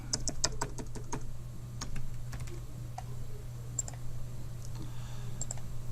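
Computer keyboard typing in irregular bursts of sharp clicks, denser at the start and then sparser, over a steady low electrical hum.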